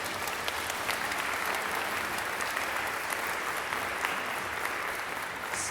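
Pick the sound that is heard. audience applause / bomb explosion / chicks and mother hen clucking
audience applause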